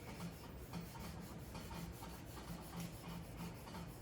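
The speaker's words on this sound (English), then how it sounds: "we're just gonna give our guitar a little rub" A rag is rubbed along a guitar fretboard across the frets during a string change. Soft, rhythmic back-and-forth rubbing strokes sound close and quiet, with no one speaking.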